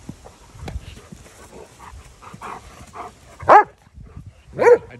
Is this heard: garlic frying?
no